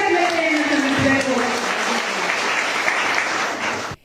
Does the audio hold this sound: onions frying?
no